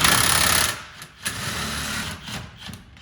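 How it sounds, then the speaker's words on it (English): A cordless drill, used on the stabilizer jacks of a 2021 Autumn Ridge 26BHS travel trailer, gives a close, loud, steady whir for about half a second, then stops; fainter mechanical rattles and clicks follow. "So I always recommend getting a cordless drill."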